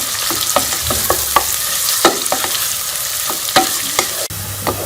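Onions fry in hot oil in a pan as they brown toward golden, with a steady sizzle broken by sharp clicks and scrapes of stirring at irregular intervals, close and alone.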